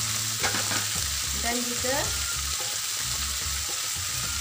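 Okra and minced chicken stir-frying in a pan, with fried vegetables and dendeng added, sizzling steadily throughout with scraping stirs and a brief spoken word over the frying.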